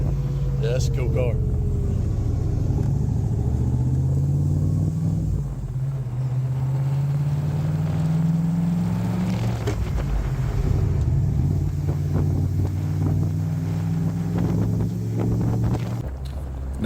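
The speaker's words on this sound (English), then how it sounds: "you're looking at 345 horse Corvette ZZ3 motor with a 4-speed" A deep V8 engine in a 1958 Lister Corvette, a 345-horsepower Corvette ZZ3 motor with a 4-speed, rumbles steadily while driving, its pitch slowly rising and falling through gear changes, with wind buffeting throughout.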